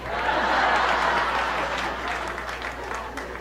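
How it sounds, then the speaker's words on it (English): Women in a comedy club audience clap, a broad steady wash of applause with a few chuckles mixed in, loud and close for a few seconds before easing slightly. "Only the women are clapping."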